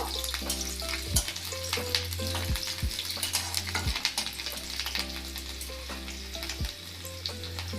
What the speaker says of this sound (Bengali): কড়াতে তেল দিয়েছি, দিয়ে এর মধ্যে আমি রসুন আর আদা, কাঁচা লঙ্কা কুচিগুলো আগে দিয়ে দেব, দিয়ে একটু ফ্রাই করে নেব